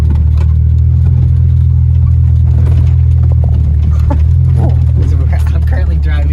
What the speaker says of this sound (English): I'm currently driving to Torqueville Falls, and the road is like pretty rough.